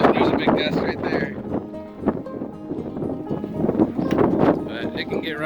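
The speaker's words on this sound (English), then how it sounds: "there's a big gust right there" A big gust of wind buffets an outdoor homestead garden site with pallets, roaring steadily and loudly across the microphone throughout, close and rough with no pauses.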